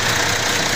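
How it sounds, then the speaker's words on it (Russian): A 2015 MAN TGX truck with a D26 Common Rail diesel engine idles, a loud, steady, even rumble heard up close without talk over a brief stretch. "Двигатель работает чисто, ровно, не троит, машина завелась сразу."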